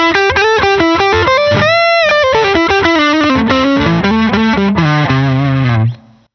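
Electric guitar through a NUX Lacerate FET clean boost followed by an overdrive plays a continuous melodic line with a boosted, gritty tone, loud and sustained, ending abruptly after about six seconds.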